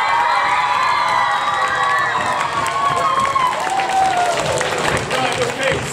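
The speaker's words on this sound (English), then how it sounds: "Big round of applause for Miss Smith." An audience at a school nativity breaks into loud applause and cheering, children's shouts and high voices rising over steady clapping that continues for several seconds.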